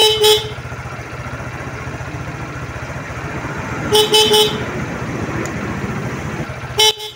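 A Honda XRM125 Fi motorcycle horn honks in short bursts, a long blast at the start, a few quick toots near the middle and another at the end, over a steady engine idle.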